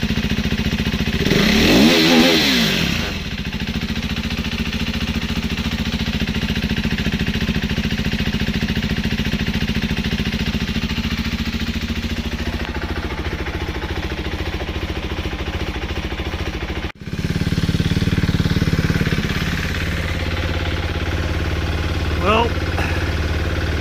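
A 2014 KTM 390 Duke single-cylinder motorcycle idles steadily and slightly high for most of the stretch, with a brief throttle blip at the start and a short break near the end before it settles back to a steady idle.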